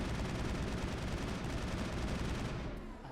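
Sustained rapid rifle fire in a Mass Effect firefight rattles out as a dense, continuous burst of shots before cutting off near the end, with no talking over it.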